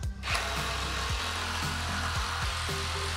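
An oscillating multi-tool cutting through a wooden garage wall stud in an old workshop, a loud continuous buzzing whine with rhythmic pulsing as the blade bites into the wood.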